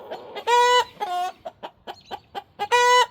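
Chickens cluck in a close, loud run of short calls: several sustained, harmonic squawks mixed with brief, choppy clucks.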